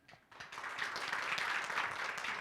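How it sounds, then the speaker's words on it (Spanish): A room full of people applauding at a seminar, steady dense clapping building quickly and holding at moderate volume, a little distant. "recibamos con un caluroso aplauso"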